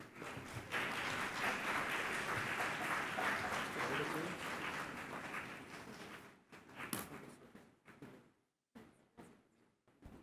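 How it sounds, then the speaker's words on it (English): An audience applauds for the Matale Entrepreneurs Consortium at the launch of a Sri Lankan SME resilience fund: sustained, dense clapping for several seconds that thins into scattered claps and a few knocks before fading out. "can we please have a round of applause for the Matale Entrepreneurs Consortium"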